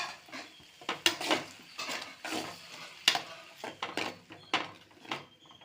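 Kalan (mushroom) gravy with ground tomato is stirred in a kadai, with a spoon scraping and clinking against the metal in irregular bursts over a soft background sizzle, close and moderately loud with no talking.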